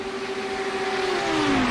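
A pack of race cars at full speed streams past on a circuit, a loud, steady engine roar with the pitch falling away as they go by, no voices.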